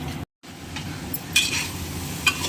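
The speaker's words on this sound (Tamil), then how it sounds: "தக்காளியோடு சேர்ந்து இதுவும் நல்லா வதங்கட்டும்." Tomato, coriander leaves and mint sautéing in a pan for prawn biryani, giving a steady soft sizzle with stirring scrapes and a few brighter clinks of a spoon against the pan.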